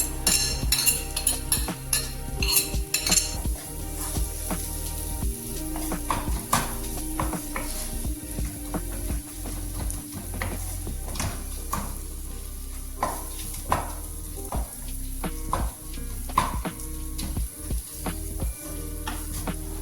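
Raw turmeric sautéing with ground coriander, chili powder and garam masala in a pan for a Rajasthani haldi sabzi, a steady close sizzle broken by repeated scraping and clinking of a spoon against the pan while stirring.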